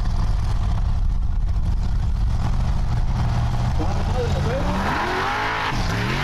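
An 800-horsepower Icelandic formula off-road race car climbs a steep slope at the Hella 2015 round, its engine droning loudly and steadily before revving up with rising, wavering pitch near the end.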